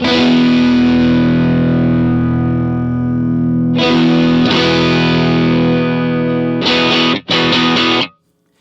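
Electric guitar through a Pettyjohn Electronics Chime MKII overdrive pedal rings out loud and gritty: a long sustained chord, then several sharp strummed chords cut off abruptly.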